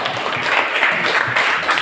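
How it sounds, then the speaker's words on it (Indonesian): A classroom group applauds a small group after their poetry recitation, a short, steady patter of many hands clapping at moderate loudness with no talk over it. "Tepuk tangan buat kelompok."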